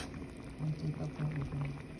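Coconut milk simmers in a pot for a Filipino ginataang sitaw, a soft bubbling hiss close by, with a voice speaking over it in short bursts.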